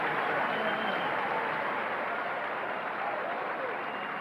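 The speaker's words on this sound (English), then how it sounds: "you hear the crowd on Stadium Court" Crowd at Stadium Court during a 1990 US Open women's tennis match, giving a steady, distant wash of applause and murmur that holds evenly without distinct claps standing out.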